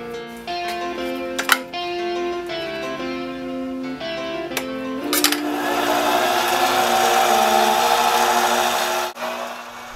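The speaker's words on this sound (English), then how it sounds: "I can now properly mount this piece of aluminum in the lathe for more turning operations" A mini lathe turns a large-diameter aluminum piece. Tonal motor whine and metallic ringing with a few clunks give way to a loud, steady hiss of cutting that runs several seconds before stopping abruptly.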